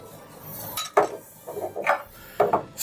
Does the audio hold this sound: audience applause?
no